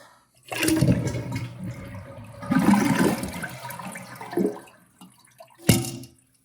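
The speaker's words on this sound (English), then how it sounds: "flush the water out." A toilet flushes after the water supply is shut off, draining the tank into a bowl with low water; two loud rushing surges with gurgling between them, ending in a short sharp clunk.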